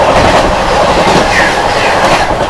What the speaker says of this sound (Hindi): मार गई ओवरटेक उड़ीसा संपर्क क्रांति जोधपुर को, हावड़ा जोधपुर